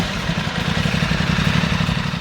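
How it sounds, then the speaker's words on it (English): An Aprilia motorcycle engine rumbles through its stock exhaust, a close, steady throaty idle with a slight rise in revs and no voices. "The sound from this stock exhaust is awesome."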